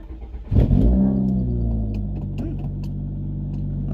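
A 1992–96 Honda Prelude with a swapped engine cranks and catches, then revs up and settles into a steady idle, loud and close with a faint clatter.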